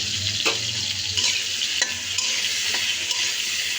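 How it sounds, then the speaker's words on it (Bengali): Small eggplant pieces rubbed with salt and turmeric fry in hot oil, giving a constant bright sizzle close up, broken by a few soft stirring scrapes. "বেগুনকে ছোট ছোট পিস করে লবণ হলুদ দিয়ে মেখে নিচ্ছি তারপরে গরম তেলে ভেজে নিচ্ছি"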